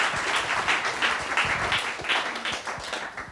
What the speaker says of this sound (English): So please welcome Fatemah with a warm round of applause.